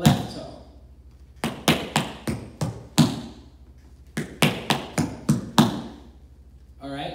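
Tap shoes striking a hard floor in traveling cramp rolls, with sharp heel and toe taps in quick clustered bursts separated by short pauses, loud and close with no talk.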